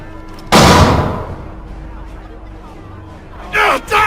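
A loud volley of gunfire at a townhouse in the video game Assassin's Creed III, one heavy blast that fades into crowd noise, then two more sharp shots near the end.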